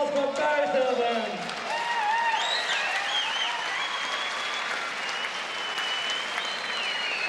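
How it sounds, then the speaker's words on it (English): Rodeo arena crowd applauds after a bull ride by the bull Chainsaw, a loud, sustained wash of clapping and cheering with an announcer's voice talking over it. "Let's give a round of applause for both of them."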